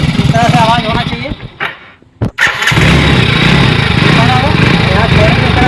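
A Hero Splendor Plus BS6 motorcycle with a rusted silencer: the engine runs loudly and close, cuts out briefly, then fires back up into a steady, throbbing idle while someone talks over the start.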